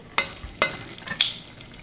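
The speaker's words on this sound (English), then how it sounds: "frying those chilies." Chilies sizzle in hot oil, with a few sharp scraping stirs breaking through the quiet frying hiss.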